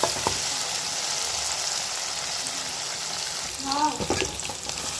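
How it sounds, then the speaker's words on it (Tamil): Tomatoes sauté in a pan for a tamarind curry with cowpeas and okra, giving a constant close sizzle with a few scraping stirs near the end and no talk. "நல்லா குலைவாக தக்காளி வதங்கணும் நல்லா குலைவாக வதங்கட்டும்"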